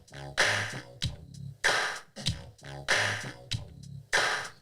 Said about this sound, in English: that's my snare